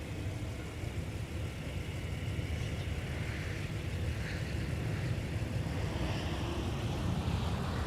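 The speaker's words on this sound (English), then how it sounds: "we'll take a look at our floater landing that happened just before Delta 258 Heavy departed for Dublin" An airliner landing at Minneapolis–Saint Paul airport, a steady broad engine roar and rumble heard from a distance, holding constant with no clear peak and no voices.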